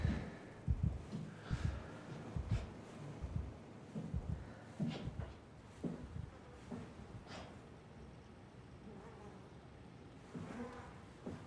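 A thudding heartbeat effect in the sci-fi horror game SOMA pulses in an irregular run of low double thumps, fairly faint, then fades toward the end.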